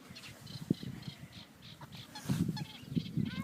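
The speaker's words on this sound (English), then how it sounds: "we're feeding the ducks maggots and these" Ducks gather while being fed maggots during fishing, giving repeated nasal honking quacks close by, with busy splashing and scuffling underneath that grows louder toward the end.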